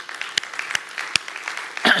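A church audience breaks into brief applause, scattered claps with a few sharp louder hits, moderately close and lasting about two seconds.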